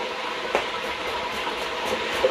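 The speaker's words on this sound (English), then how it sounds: "Sorry about the noise of the fryer in the background there." A deep fryer frying food for a Chinese spice bag gives off a steady, broad hissing sizzle with small crackling bumps, moderately loud and continuous, with no voices over it.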